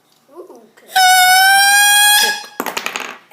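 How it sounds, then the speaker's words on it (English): A single loud horn honk blares close up as a steady, bright tone lasting just over a second, with voices murmuring just before it and children chattering right after. "honk it, honk it, honk it, honk it."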